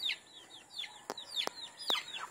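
Rhode Island Red chickens at feeding time, soft repeated clucks and chirpy calls at a relaxed pace, with a few sharp clicks mixed in, fairly faint and without talk.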